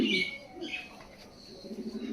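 A pigeon that has settled on a small farm coos softly and low while a few faint chirps sound nearby, fairly close, with no voices.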